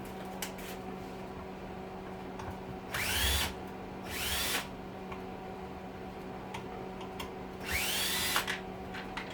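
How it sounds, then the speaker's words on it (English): Phillips screwdriver unscrewing screws while a shop vac is taken apart, a few short whirring bursts of a powered driver with faint ticking between them over a steady background hum, no talking. "Now we're back to a star. Phillips driver again."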